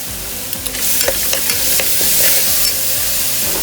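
Chopped chilli fries with ginger garlic paste in a pan for chicken soup, a loud steady sizzle with a few light stirring clicks near the start, close and continuous without talk.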